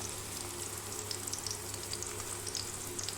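Small native onions and curry leaves sauté in hot oil for goat head meat curry, a steady close sizzle with scattered crackles and pops throughout and no voices.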